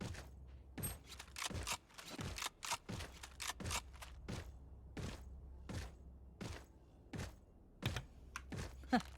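Fast, steady keystrokes on a computer keyboard clack faintly through a gamer's open microphone during an esports match, with a low hum underneath and no talking.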